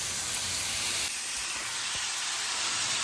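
Butter, a mix of Kerrygold and regular, sizzles and hisses steadily in a hot pan beside browning chicken, a close, loud, continuous frying sound.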